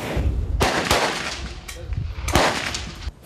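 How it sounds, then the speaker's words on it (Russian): Kalashnikov assault rifles fire at a national guard shooting competition over 100 metres, a few sharp loud cracks spaced apart against a murmur of outdoor background noise. "стрельбе из автомата Калашникова на 100 метров"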